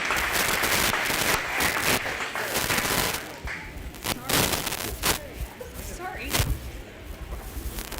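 A crowd at the Greene County, Iowa county fair applauds the kids in a showmanship contest, a dense, sustained burst of clapping with a few sharper claps standing out, close and continuous throughout.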